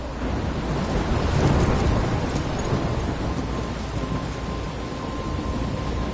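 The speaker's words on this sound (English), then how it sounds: "I'm trapped in a storm?" A heavy thunderstorm in the video game Life is Strange, with steady loud rain pouring down and a deep rumble of thunder swelling early on, a dense roar throughout and no voices.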